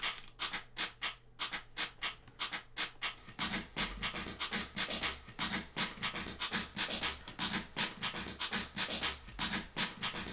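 A music-production sample loop with its transients cut short plays as a steady groove of clipped, punchy hits, repeating rhythmically and staying loud throughout, with a low sustained tone dropping out after the first few seconds.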